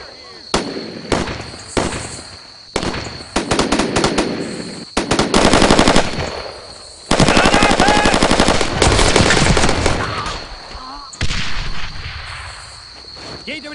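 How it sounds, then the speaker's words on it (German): Heavy bursts of machine-gun and rifle fire crackle through a World War II shooter battle in Brothers in Arms, long rattling volleys broken by brief gaps, loud and close, with German shouts from soldiers mixed into the din. "Geht über die Flanke! Schießt weiter! Feind unter Beschuss nehmen!"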